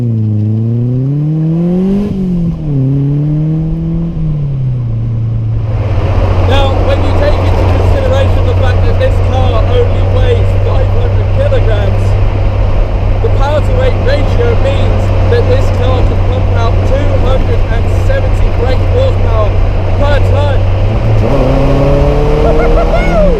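A Caterham Seven 270R with a naturally aspirated 1.6 litre Ford Sigma engine, heard loud and close: revs sweep up and down at first, then settle into a steady, droning cruise before climbing again near the end.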